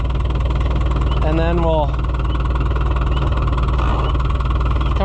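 A 2-65 White Iseki tractor engine runs at a steady idle with an even low rumble and vibration throughout, while a person speaks briefly near the start.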